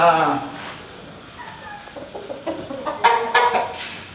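A gamefowl clucks and gives short fowl calls close by, with bursts of clucking rising near the start and again toward the end while someone talks over it.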